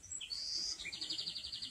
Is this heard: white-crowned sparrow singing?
yes